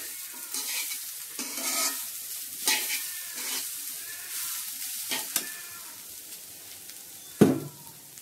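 Pitha filling of grated coconut fries in a pan, a soft steady sizzle with intermittent scraping strokes of a spatula and one sharp knock near the end, close and moderately quiet.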